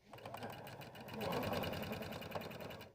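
A sewing machine stitches half square triangle pieces for a pillow in one short, steady run of rapid, close mechanical chatter. It is faint and swells slightly midway.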